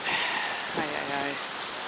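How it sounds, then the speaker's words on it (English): Steady rain falls across a city street in Kaohsiung, Taiwan, a dense even hiss running through the whole stretch, with a voice briefly speaking partway through. "I don't mind the rain"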